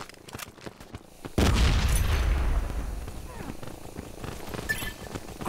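A grenade goes off in the mobile shooter game Modern Ops as one sudden loud boom, followed by a long, low rumbling tail under scattered in-game sounds.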